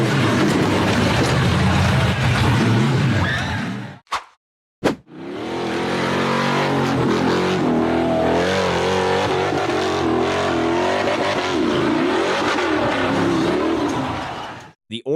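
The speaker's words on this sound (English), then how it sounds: "The green buggy accelerated up a rugged, rocky hill." An off-road buggy engine roars hard while accelerating up a rugged rocky hill, loud and close with rising revs, a brief cut near four seconds, then sustained straining drone.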